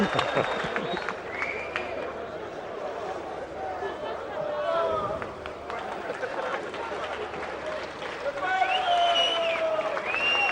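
Boxing arena crowd at a Roberto Duran bout cheering and applauding in a continuous mid-level roar, with a commentator talking over the noise throughout.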